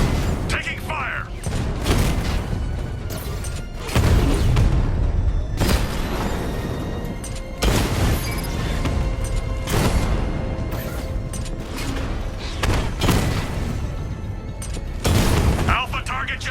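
Gunfire and heavy booms in the video game Batman Arkham Knight, loud bursts striking every couple of seconds over a constant rumble of mechanical combat noise.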